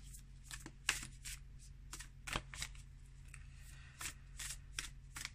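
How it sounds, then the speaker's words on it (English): A Flower of Life oracle card deck is shuffled in a quiet room, giving a string of soft, papery riffling bursts at an uneven rhythm over a low steady hum. "I'm going to pull you cards from the Flower of Life deck here"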